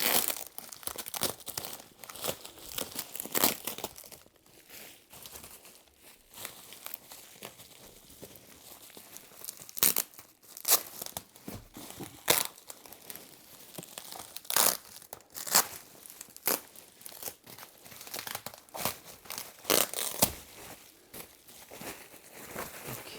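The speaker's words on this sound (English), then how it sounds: "using my hands, and I'm going to remove the tape" Packing tape is torn and peeled by hand off a cardboard box holding a biogas digester, giving sharp crinkling rips and crackles in irregular bursts throughout, close and fairly loud with brief pauses between pulls.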